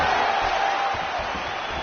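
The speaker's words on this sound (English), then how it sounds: "you hear the crowd react every time they come together" A UFC arena crowd roaring in a dense, loud, continuous swell of cheers and shouts during a championship fight exchange.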